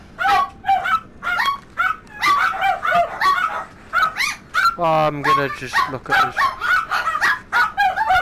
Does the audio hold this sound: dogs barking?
yes